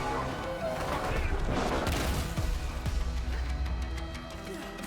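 Rapid rifle fire from a Jakobs weapon in the video game Borderlands 3, a burst of sharp booming shots with heavy low rumble, loud and dense, tapering off toward the end.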